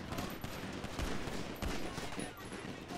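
Gunfire in the FiveM GTA roleplay video game, rapid bursts of shots in quick irregular volleys with a couple of heavier blasts, loud and continuous.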